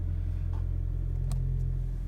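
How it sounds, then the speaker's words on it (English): Engine of a 2018 Toyota C-HR Dynamic hybrid running as a generator to charge the batteries, heard from inside the cabin as a steady, close low rumble with a faint hum throughout. "engine just starting to be used as generator to charge the batteries a little bit."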